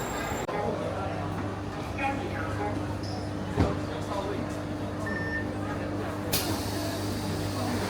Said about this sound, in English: The bus is electric